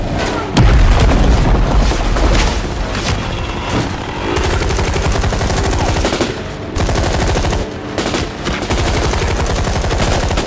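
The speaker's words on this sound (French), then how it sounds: "Lance-roquette." A rocket launcher fires amid heavy gunfire in intense combat, with a loud deep boom near the start followed by continuous rapid machine-gun bursts and dense, overlapping shots throughout.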